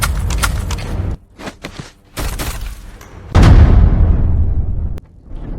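Gunfire in a martial arts drama: a few sharp, loud close bangs followed by a heavy booming blast with a long decaying tail, set among scuffles and thuds.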